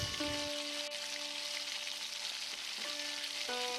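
Vegetable Manchurian with poured-in sauce sizzles softly in a pan as it is mixed, a low steady frying hiss with faint tonal hum in the background.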